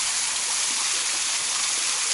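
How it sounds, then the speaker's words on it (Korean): A waterfall in Ubud, Bali, pours in a dense, even roar of rushing water, close and constant throughout, with no talking over it. "또 폭포가 있어요"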